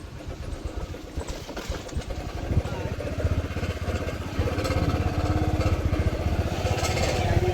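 A motorcycle engine drones steadily while riding along a rough village road, a low continuous rumble with rising loudness midway, wind and road noise mixed in.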